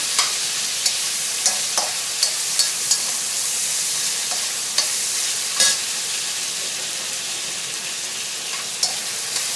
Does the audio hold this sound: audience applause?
no